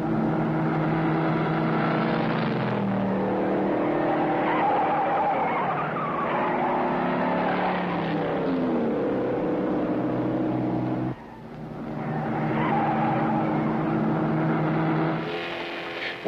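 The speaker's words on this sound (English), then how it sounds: "This traffic goes too fast." Fast cars on a busy road rush past one after another in loud, sweeping whooshes with some tire noise, a steady roar that dips briefly before the next vehicles surge by.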